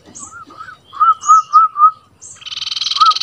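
Someone mimics a bird with a series of short whistled notes, then a rapid pulsing trill, clear and close with no background noise.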